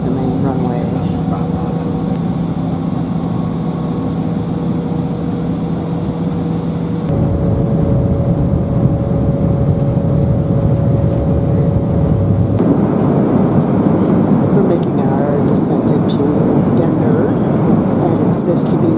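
A United airliner climbing out from the Palm Springs runway makes a loud, sustained engine roar whose pitch shifts in distinct stages as it climbs. Muffled cabin voices can be heard under the engines.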